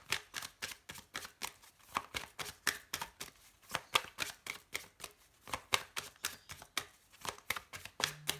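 Oracle cards from a shadow oracle deck being shuffled by hand for a reading: quick, crisp riffling bursts repeat in a steady rhythm, close and alone.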